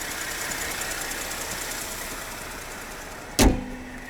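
A Pentastar V6 in a 2021 Dodge Durango GT Blacktop Edition runs at a steady, even idle, a constant engine drone, cut near the end by a single sharp thunk like a door closing.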